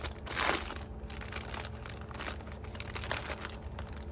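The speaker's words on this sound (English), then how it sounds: "pardon the crinkling" Packaging crinkles close up around silk caps and fibre, a soft rustling and crackling with a brighter crunch near the start, then lighter scattered crinkles.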